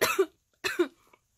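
Two short, harsh coughs from a person sick with a chronic illness, each a quick double burst, separated by a brief pause and heard close up and alone.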